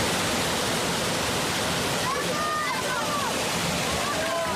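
Waterfall at the International Waterfall Jumps in Bosnia, a loud, constant rushing roar of falling water, with faint whistle-like sounds rising over it partway through.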